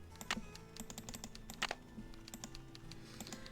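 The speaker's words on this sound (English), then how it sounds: "we can hear someone typing and cannot do anything about it" Someone types on a keyboard inside the Nancy Drew game Treasure in the Royal Tower, a quick, uneven run of crisp key clicks with a few sharper strikes, close and fairly quiet over a faint low ambient hum.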